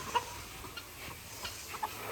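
Roosters on a farm in Ghana give out a few short, faint clucks and calls spread across a quiet outdoor background, with no talking.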